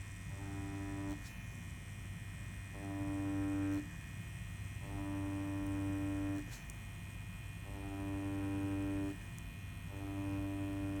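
A permanent makeup machine with a Vertix needle doing eyebrow hair strokes gives a steady electric hum that pulses on and off in regular bursts about every two seconds, close and even, with no talk.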